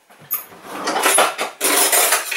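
A spoon or utensil mixes a meal of prawns and broccoli in a container, giving close, loud clattering scrapes in short bursts with brief pauses, no talk.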